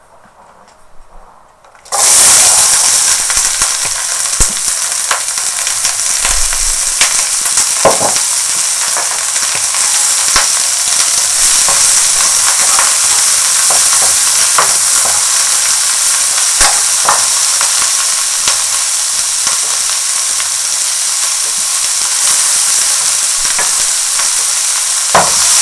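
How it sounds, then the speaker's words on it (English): Onions sauteing in a hot pan for a tomato sauce, a loud, steady sizzle and fry that starts abruptly and holds close up throughout, with occasional stirring clicks and scrapes. "I'm going to start by sauteing our onions."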